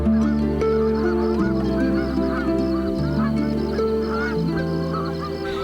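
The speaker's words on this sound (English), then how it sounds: "The serenade of geese in early morning is music to" Geese honking in the early morning at Cibola Wildlife Refuge, Arizona: a loud, dense chorus of overlapping nasal honks and calls from a nearby flock, steady throughout with no voices.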